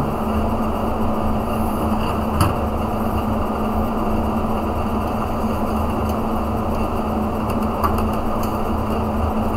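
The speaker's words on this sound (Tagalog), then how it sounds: "Kailang maingay yung motor nito." A noisy motor, likely a fan, runs inside an old junkshop computer, giving a loud, steady drone with a faint whine and a couple of small clicks, continuous throughout with no voices.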